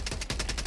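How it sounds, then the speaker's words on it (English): Rapid machine gun fire in Helldivers 2 rattles off in a quick, evenly spaced burst of about eight shots, fairly faint and brief. "Oh, I gotta wait for the machine guns."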